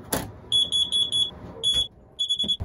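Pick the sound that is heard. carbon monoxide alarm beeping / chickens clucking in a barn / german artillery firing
carbon monoxide alarm beeping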